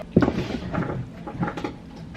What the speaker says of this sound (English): that was my cat behind my vanity